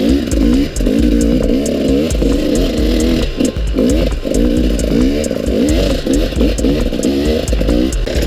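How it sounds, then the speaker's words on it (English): KTM enduro motorcycle ridden over loose, rocky hill terrain, its engine loud and close with a rough, pulsing note that rises and falls as the throttle changes. "This feels weird riding a KTM out."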